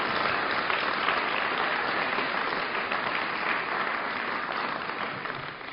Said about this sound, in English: A round of applause for our esteemed faith leaders.